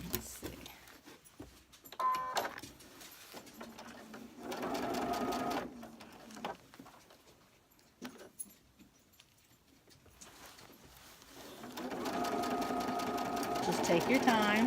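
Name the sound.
sewing machine stitching a pillow form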